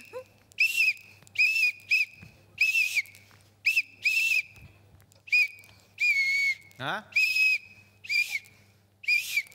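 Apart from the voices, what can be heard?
whistle being blown repeatedly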